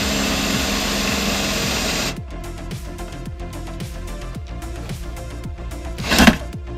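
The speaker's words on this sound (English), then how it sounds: "that's why you use the spot weld drill bit." A spot weld drill bit boring out spot welds on the body of a Fiero car, a loud steady whir for two seconds, then a run of regular rotating grinding pulses with a sharp bite near the end.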